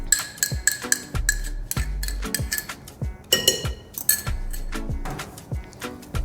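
A metal spoon repeatedly clinks and scrapes against a mixing bowl as plain yogurt for naan dough is scooped in, giving rapid close knocks and clatters with soft dull thuds in between.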